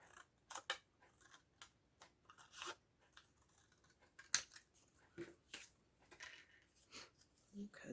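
Scissors cut straight across paper for a Stampin' Up Paper Pumpkin mini slimline card, giving a string of quiet, sharp snips and crisp crunches at irregular intervals, close by and faint.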